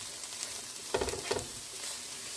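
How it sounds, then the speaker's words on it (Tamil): Bitter gourd fries in a pan with onion and coconut, giving a soft continuous sizzle with two short bursts of stirring and scraping near the middle. "இதை ஓப்பன் ஃப்ரை பண்ணுங்கள் இப்போது"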